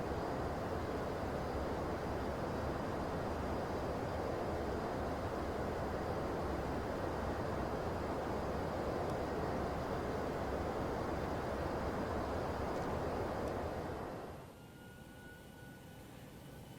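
ToLiss Airbus A321 jet in X-Plane 11 accelerating toward 250 knots after takeoff, a steady loud broadband engine and airflow roar that holds unbroken for about fourteen seconds, then drops abruptly to a quieter hum.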